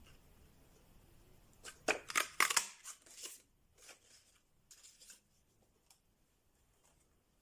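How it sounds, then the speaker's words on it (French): Paper being cut with scissors while making a chocolate-bar pouch, a cluster of sharp close snipping and rustling bursts followed by a few fainter snips, then near silence. "Donc là, il me reste à découper"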